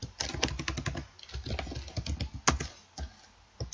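Fingers tap out a quick, uneven run of clicks on a computer keyboard, close and fairly quiet, with short pauses between bursts and no voices.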